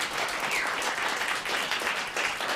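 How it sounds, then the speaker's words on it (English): Audience applause at a workforce development policy forum, a dense, even wash of many hands clapping at moderate distance for a couple of seconds, with no voices standing out. "give Maria and Teresa a huge round of applause"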